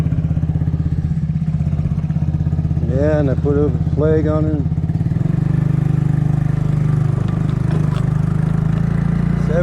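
A Kymco People scooter with a newly painted exhaust idles close by with a steady low, pulsing drone, while someone talks over it for a few seconds before the engine note steps up and settles again.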